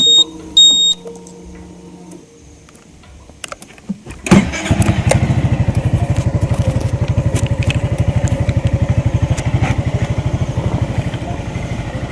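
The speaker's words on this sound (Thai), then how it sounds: "เดี๋ยวผมลอง ขับเข้าไปข้างในไปดูที่บริเวณเส้นทางเข้าถ้ำกันดีกว่า" A motorcycle near a cave entrance starts up after a few beeps and handling noises, then settles into a loud, close, steady engine thrum with a rapid regular pulse.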